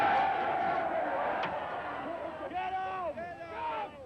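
A crowd of angry miners on a 1984 picket line shouts and jeers, with raised voices and yells rising out of a noisy babble, fairly distant and rough, with a sharp knock partway through.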